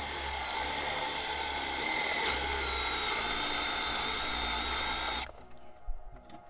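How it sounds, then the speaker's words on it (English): A step drill bit bores out a hole from a small pilot hole during a van electrical upgrade, giving a steady, loud whining grind that runs unbroken for about five seconds and then stops abruptly, leaving quiet. "the step bit did work, but that was a pain"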